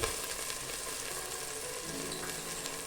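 Spices with garam masala, coriander powder and salt sizzle in a pan alongside sliced tomatoes, a steady close crackle of frying for chicken pulao with no talking.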